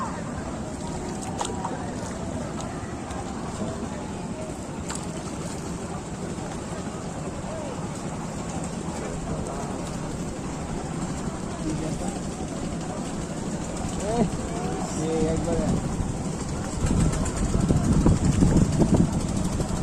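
A boat carries people across the Tanguar Haor wetland in Bangladesh on a cloudy, rainy day, with a steady low drone and water wash building toward the end, while voices talk faintly.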